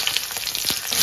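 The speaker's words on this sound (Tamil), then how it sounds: "இப்போ ஒரு வானில் எண்ணெய் ஊற்றியாச்சு, கொஞ்சமாக கடுகு போட்டுறேன். கருவேப்பில" Mustard seeds and curry leaves sizzle in hot oil in a pan, a brief, close, crackly frying hiss with small pops and no talking.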